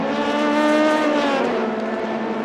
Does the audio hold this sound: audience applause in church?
no